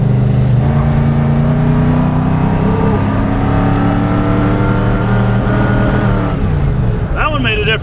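A loud, steady engine roar from an abandoned limousine running on a 100 shot of nitrous, with a strong low drone throughout and a brief voice near the end.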